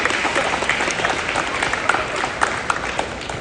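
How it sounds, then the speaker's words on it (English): An audience gives a steady round of applause during a live talk at a university event on diversity and inclusion; continuous crowd clapping for the whole stretch, with a few sharper individual claps standing out. "How about a round of applause for the kid?"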